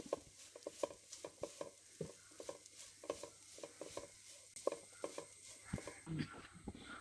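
A jackfruit and grated coconut mixture is stirred in a pan for Kerala-style chakka ada, making quiet, rhythmic scraping and rubbing strokes that repeat steadily, with a faint sizzle behind them.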